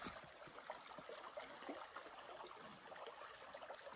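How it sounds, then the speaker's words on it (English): A small creek runs over slate slab rock beside a mossy railing on a mountain stretch of the Appalachian Trail, giving a steady, faint broadband wash of flowing water with no speech. "Got a nice little creek right there though."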